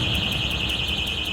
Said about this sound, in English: Fire alarm, guys.